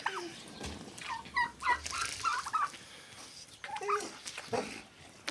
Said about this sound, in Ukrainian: Гарненько, індики собі ходять.